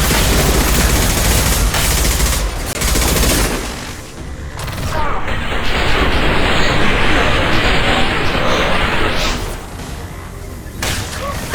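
Sustained heavy gunfire in Mass Effect Legendary Edition combat, loud and dense, with rapid overlapping shots and booming bursts, a brief lull partway through, and occasional voices beneath the barrage.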